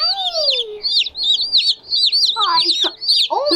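Cornish cross chicks in a brooder give a continuous chorus of high, bright peeping chirps, many overlapping calls close by with no gaps, and a few louder sweeping cheeps near the end.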